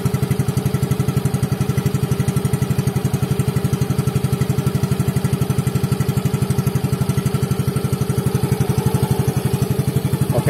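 Yamaha FreeGo scooter from 2022, burning a little oil, running its engine in a steady close putter with no clear rise in revs, alone for about ten seconds.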